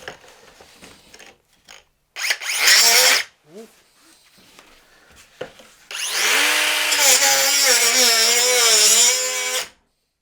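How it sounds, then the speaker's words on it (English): DeWalt power cutting tool fitted with a metal blade, starting with a brief loud whine, then a long steady high-pitched cutting roar with a rising and falling tone, close by, with brief speech in between. "I got this DeWalt cutting tool a while ago and figure we'll try it out. It's got a metal blade on it."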